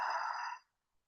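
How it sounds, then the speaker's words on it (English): A single long, audible breath out during a yoga session, a soft airy sigh lasting about half a second before fading to silence. "and breathing out."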